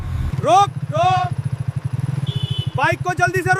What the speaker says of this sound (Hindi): बाइक को जल्दी से रोक।